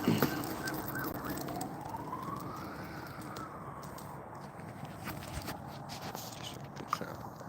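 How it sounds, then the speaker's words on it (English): A siren sounds from far away in the distance, one faint rising and falling wail over low background rumble. "There's a lot of sirens coming from a distance now."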